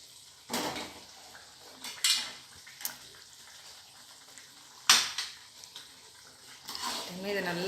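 Bread halwa with added milk being worked in a pan, several sharp scrapes and clanks of a spoon against metal separated by quiet gaps, with a soft bubbling sizzle near the end.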